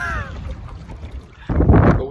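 Homemade swamp boat moving across a flat slough, with rushing water and wind buffeting the microphone, growing louder and closer in the last second; a voice is briefly heard early on.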